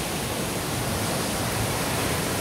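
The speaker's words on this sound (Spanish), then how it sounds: "así está cayendo muy fuerte el agua ya acá" El Chiflón waterfall pours hard and close, a dense, loud, unbroken roar of falling water with no voices.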